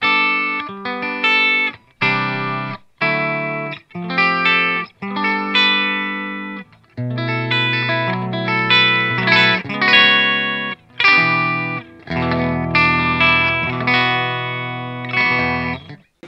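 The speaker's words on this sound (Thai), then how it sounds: "ขนาดเสียงแอมเพียวๆนะยังไม่ใส่รีเวิร์บ" An electric guitar plays through a Line 6 POD HD500X using the Fender Bassman amp model, clean with no reverb added, a series of loud, ringing strummed chords and short phrases with brief gaps between them.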